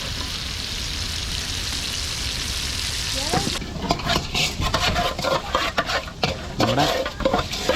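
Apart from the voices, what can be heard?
fish (seer fish and mackerel) frying on a stove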